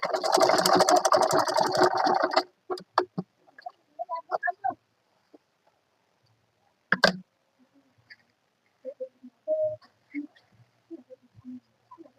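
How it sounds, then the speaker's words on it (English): A sewing machine stitching ankara fabric runs in a loud, fast, even whir for about two seconds, then stops, followed by scattered soft clicks and handling noises in near silence. "Make sure you stitch it very well."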